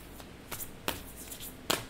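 Tarot cards are shuffled in a few quick riffling bursts, close but quiet, with brief pauses between them and no talk.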